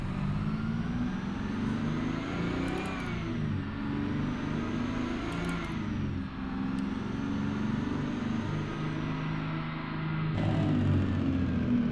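A simulated Freightliner FLD truck with a 12V71 diesel engine revs in American Truck Simulator, a loud steady drone that rises and falls in pitch across several throttle swells, with faint high whines above.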